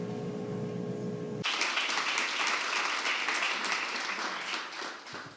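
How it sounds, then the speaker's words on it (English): An audience at an induction ceremony bursts into sustained applause right after a closing remark, dense clapping from a large crowd that holds steady for several seconds before starting to fade. "I'm supposed to ask for a round of applause, but it looks like you've done that already."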